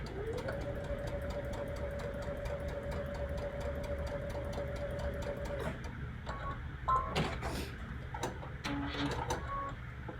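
A sewing machine stitches a diagonal seam across quilt fabric, giving a steady, fast mechanical whir for several seconds. It then stops, followed by a few clicks and handling taps.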